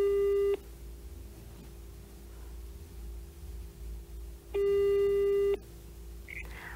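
A phone on speakerphone after dialing, giving two long, steady electronic tones about four seconds apart over faint room noise.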